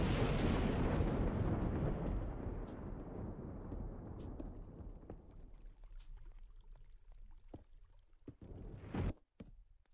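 Thunder from a storm in the video game Minecraft: a loud, broad rumbling crash that fades slowly over several seconds, followed by quieter crackles and a brief final burst.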